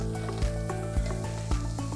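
Minced onions fry in olive oil in a pan, a steady close sizzle with soft periodic scraping pulses as they are stirred.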